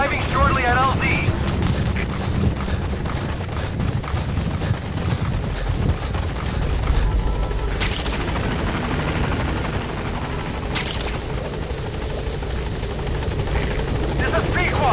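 The Pequod helicopter from Metal Gear Solid V thunders close and loud as it arrives at the landing zone. Its rotor roar holds steady throughout, with game sounds layered underneath.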